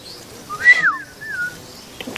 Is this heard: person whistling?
yes